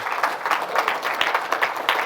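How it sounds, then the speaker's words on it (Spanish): Church congregation clapping in praise during a Spanish-language Sunday service, a rhythmic group applause with regular beats, moderately loud and without talk on top. "Dale un aplauso al Señor, déjalo fuerte a Él."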